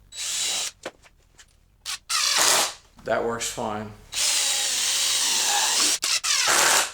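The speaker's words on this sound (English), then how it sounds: "So if I use the 1/8 inch drill bit," A power drill drives a screw into wood through a 1/8 inch pilot hole, several loud whirring bursts with short pauses between them, and someone speaks briefly partway through.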